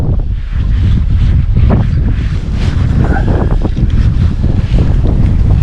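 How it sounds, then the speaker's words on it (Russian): Wind roars across the microphone while fishing from a boat on the Moksha river in Mordovia, a loud, constant buffeting rumble with faint water sounds and no clear speech. "Ветер нас гонит."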